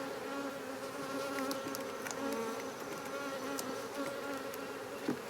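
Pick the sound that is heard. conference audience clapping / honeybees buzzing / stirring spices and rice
honeybees buzzing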